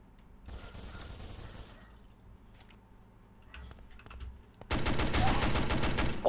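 Rapid automatic gunfire in the online shooter Urban Terror, a short burst at first, then scattered clicks and shots before a loud, sustained volley of fire fills the final seconds.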